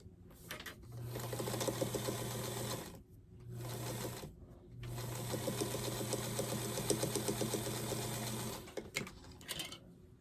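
A sewing machine stitching quilt pieces right sides together runs in three loud bursts of rapid, even mechanical whirring, separated by short pauses, with a steady motor hum beneath and no talking.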